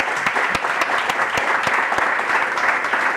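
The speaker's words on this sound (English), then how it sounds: "Big applause for Erik." A conference audience at a startup event applauds, a dense, even roar of clapping that stays loud and steady throughout, with occasional sharper individual claps standing out.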